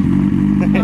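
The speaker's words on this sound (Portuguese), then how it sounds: "a reação é agora ligando a moto" A Honda CB 1000 motorcycle with 26,000 km on it starts and idles close by, a loud, low, steady engine drone with a rhythmic pulse. A voice speaks excitedly over it.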